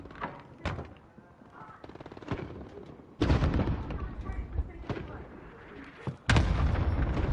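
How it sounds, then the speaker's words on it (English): Video game gunfire during a multiplayer match with an AX-50 in play: sharp shots crack through the first half, then two loud bursts of sustained heavy firing break in at about three and six seconds, with talk underneath. "I think they're still shooting each other."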